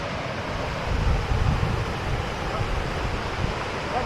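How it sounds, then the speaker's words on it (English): Ouzoud waterfall in Morocco roars as a steady broadband rush, heard from a viewpoint with low rumbling and wind buffeting the microphone, continuous and fairly close. "Waterfall, wow"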